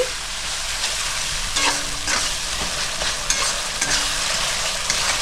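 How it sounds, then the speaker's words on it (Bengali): Ginger-garlic paste being stirred into hot oil in a pan for a fish-head cabbage curry, a continuous loud sizzle broken by scraping spatula strokes, no voices. "এবার আমি আদা আর রসুন বাটাটা দিয়ে দিচ্ছি 1 চামচ, দিয়ে ভালো করে মিক্স করে নিচ্ছি।"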